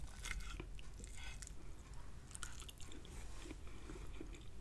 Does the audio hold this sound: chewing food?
yes